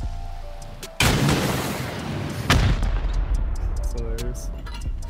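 Rockets explode during a raid on a large underwater base in a video game, with two heavy booms about a second and a half apart, each followed by a rumbling, loud tail, and brief faint sounds near the end.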